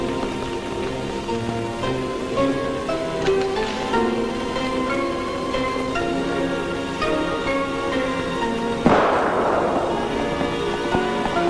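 A single sharp gunshot on command in an old Soviet film, one loud crack with a short decaying tail breaking through a steady bed of crackling fire and background film score.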